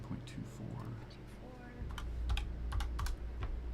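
Numbers being typed on a computer keyboard that has no numeric keypad, a quick run of close, crisp key clicks during a gaming session, with a low hum and faint background sound underneath.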